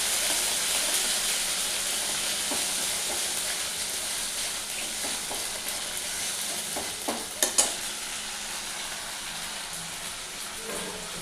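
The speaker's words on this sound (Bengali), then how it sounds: "তাই আমি এখন কড়াইতে ছেড়ে দেবো মশলাটা।" Spice paste frying in a kadai for a vegetarian dhoka dish gives a steady, close, broadband sizzle throughout, with occasional stirring scrapes and a couple of sharper clinks near the end; no one speaks.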